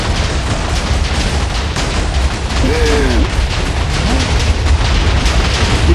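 Blocks of TNT detonate in Minecraft, a continuous loud rumbling barrage of overlapping blasts with no pause between them.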